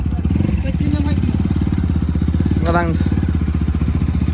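A motorcycle engine idles and throbs close by in a steady pulsing beat throughout, with brief talk over it as riders prepare to leave a hilltop fort site in Chitwan, Nepal.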